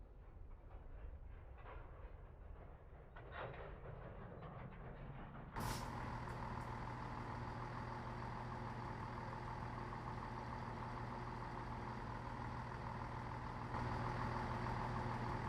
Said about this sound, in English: Welcome back to this Class 170 diesel multiple unit.